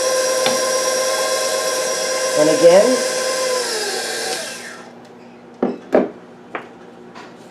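An electric mixer set to speed 3 whirs steadily through banana cake batter for about five seconds, then cuts off, followed by a few clatters against the bowl, with a brief spoken phrase.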